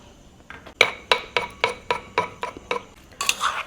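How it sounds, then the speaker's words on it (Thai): Knife chopping vegetables on a cutting board for a Thai straw mushroom salad, about a dozen crisp, evenly spaced chops close by, with a busier clatter of utensils at the end. "หั่นผักลงไปเลยครับอาว"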